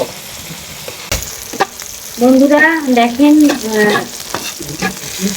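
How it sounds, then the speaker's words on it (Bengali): Meat frying in a pan with chili and garlic, a steady sizzle with clinks and scrapes of stirring, heard under a woman's speech. "মরিচ রসুন মাংসটাও ভাজতে হচ্ছে বন্ধুরা"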